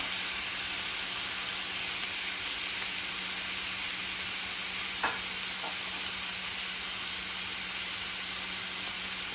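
Shrimp fry in garlic butter in a pan with a soft, even hiss, and one brief clink is heard partway through as they are turned. No voices.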